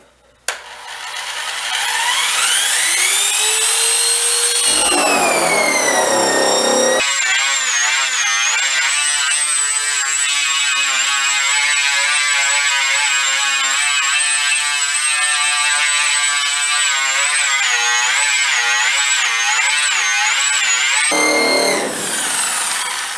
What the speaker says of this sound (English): You can hear the motor kind of bog down a little bit.